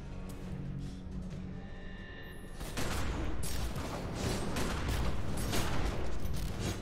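Gunfire in The Secret World video game, dense rapid volleys that swell into a sustained loud barrage after a short buildup, heard alone without talk.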